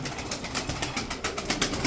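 Dark smoky female pigeon cooing close by in a loft alongside other pigeons, a continuous soft murmur of coos with fluttering bursts through the whole stretch, no voices.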